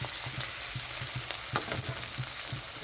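Spice paste frying and being stirred in a pan for a Bengali fish curry: steady bright sizzle throughout, with regular soft scraping strokes of the spoon at a quick even rhythm, close up and with no talk.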